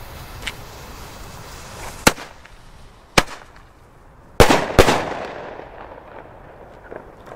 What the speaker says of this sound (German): Und jetzt schießen wir 2-mal doppelt.